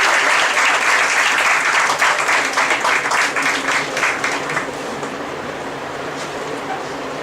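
A hall full of people clapping for award winners at an inter-college book review competition for teachers, strong even applause that tapers and fades toward the end.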